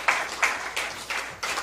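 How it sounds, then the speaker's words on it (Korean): A church congregation at a New Year's Eve worship service claps together in a rhythmic burst of about five loud, evenly spaced beats, with no talk over it. "박수 한번 쳐주세요"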